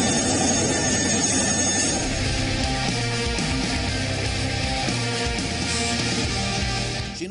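Chinook helicopters run at an Air Force station during an induction ceremony, giving a loud, constant roar of engines and rotors that stays close and steady and dips slightly at the very end.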